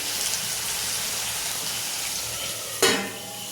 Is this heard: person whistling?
no